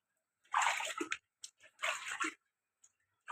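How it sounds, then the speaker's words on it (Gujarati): Water from a running tap pours into a container in two bursts of a second or so each, a close splashing rush with short drips between. "પાણી ભરાઈ ગયું અને નળ પણ વહી ગયા."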